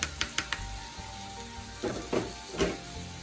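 Rice goes into a pan over a medium flame while making jaggery rice. A few light clinks come first, then soft bursts of sizzling as the rice hits the hot pan, fairly quiet overall.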